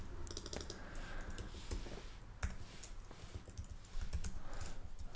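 Someone types steadily on a computer keyboard, with fast irregular key clicks and a few sharper taps, heard fairly close over a faint room hum with no talking.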